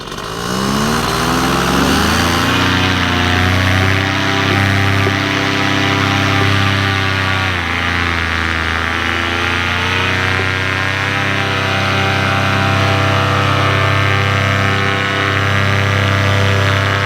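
A light aircraft engine throttles up, a steady loud buzzing drone that rises in pitch after a couple of seconds and holds strong throughout, close and alone without talk.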